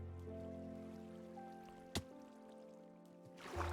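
Flowing waterfall in the Minecraft video game, a faint, steady trickling wash with a few soft drips, one brief sharp click midway and a swell of splashing noise at the end.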